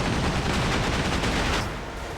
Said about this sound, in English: Starboard cannon.